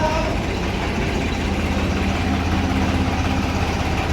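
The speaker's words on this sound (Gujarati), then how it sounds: "અલ્યા આ ટ્રેક્ટર આવ્યું" A tractor engine idles steadily with a low, throbbing rumble, loud and close throughout, without any change in pace.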